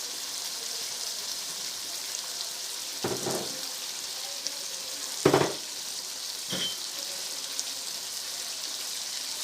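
Ginger going into a pan of mutton karahi sets off a steady, close sizzle and fry, with a few louder bursts and stirring scrapes rising over the constant crackle.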